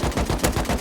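Rapid automatic AK rifle fire with iron sights in the video game Rust, a tight burst of repeated shots in quick rhythm, loud and close with no talking.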